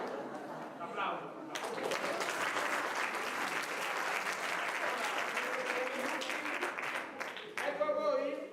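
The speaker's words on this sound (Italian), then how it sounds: "Applauso." Audience applause at an amateur theatre company's stage show, a dense burst of clapping that swells in after a short moment of talk, holds steady, then fades as voices and a brief musical sting return.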